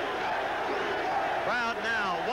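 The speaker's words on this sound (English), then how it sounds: "One by one, row by row, they stand and start that chant." A boxing crowd at a 1979 title fight between Carlos Palomino and Wilfredo Benítez roars as spectators rise and begin chanting, a dense wash of voices with rhythmic shouted calls rising toward the end.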